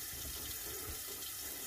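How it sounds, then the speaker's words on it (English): Water from a running tap splashes steadily over a lathered shaving brush with a synthetic knot being rinsed at a sink, a continuous close gush with no talking. "Let me rinse."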